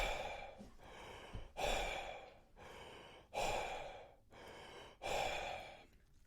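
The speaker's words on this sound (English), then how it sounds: "you just do deep breathing through the mouth," Deep breaths drawn in and pushed out through the mouth, close and alone, in a steady rhythm of about six heavy, airy pulses, as a warm-up before cold-water exposure.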